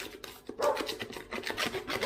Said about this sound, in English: This is a key point, cleaning the burrs off.